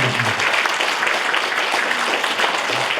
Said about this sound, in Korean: 박수 한번 부탁드